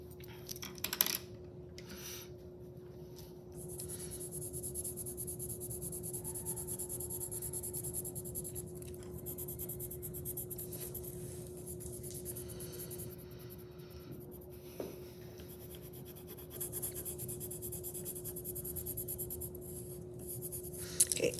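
A white pencil blends colour into paper with a faint, continuous scratching rub, sounding close and quiet over a low steady hum. No one speaks.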